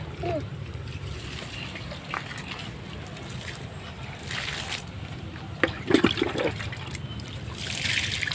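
Water is poured over newly planted pumpkin seedlings, a soft trickling and splashing that runs quietly through the stretch and grows a little louder near the end, against faint outdoor background noise.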